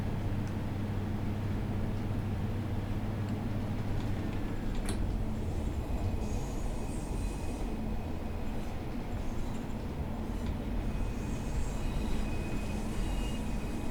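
Flange squeal from the wheels of a modern Pacer train in Train Sim World, heard as a thin high-pitched whine over a steady low rumble of running gear, with a loud clunk partway through and the squeal continuing faintly to the end.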